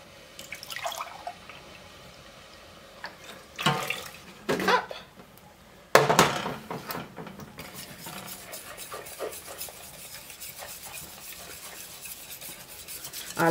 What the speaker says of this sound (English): Your whisk will sort it out.